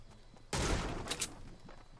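A short burst of gunfire in the video game Fortnite erupts suddenly and sits fairly distant in the mix, a quick crackling volley with a couple of sharper reports, no voices over it.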